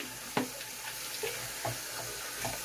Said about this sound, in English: lather it up in there one more time just to clean all the lather out of your bowl